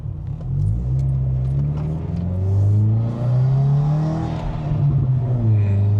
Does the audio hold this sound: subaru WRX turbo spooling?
yes